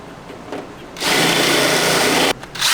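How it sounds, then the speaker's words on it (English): A small handheld rasp-type tool works at a hole in an RV panel, a harsh, steady grinding burst of about one and a half seconds that starts and stops abruptly between quieter scraping. "Okay, so I have this little raspy tool."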